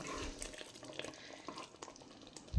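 Butter being stirred into a creamy paneer gravy with a spoon, giving soft wet scraping and liquid sloshing, faint and close, with a louder knock near the end.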